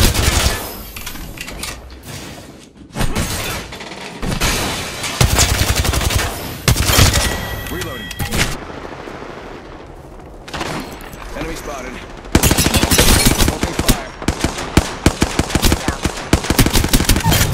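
Gunfire in the Apex Legends video game: dense, loud bursts of rapid automatic shots and booms, broken by brief lulls, with voice chatter heard in places.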